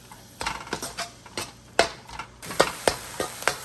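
An ingredient frying lightly in under a teaspoon of oil in a pan for chicken corn soup, with rhythmic spoon clinks and scrapes against the pan over a soft sizzle, close and without voices.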